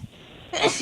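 A single loud sneeze bursts out after a brief quiet moment, close and sharp, with a short breathy tail.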